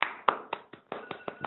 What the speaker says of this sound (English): Let's give Greg another round of applause